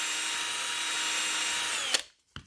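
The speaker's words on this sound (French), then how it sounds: "j'ai monté l'embout sur la perceuse" A power drill fitted with a bit whines steadily at high speed while loosening a part of a Hobbytech NXT Evo 4S 1/8-scale brushless RC buggy, then stops abruptly, followed by a brief second burst.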